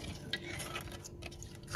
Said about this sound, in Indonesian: Aduk-aduk hingga betul-betul tercampur.